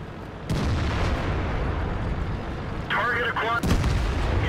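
A tank cannon fires a kill shot in the World of Tanks video game, sounding as a loud, booming blast that rolls into dense rumbling battle noise. A second sharp report follows near the end.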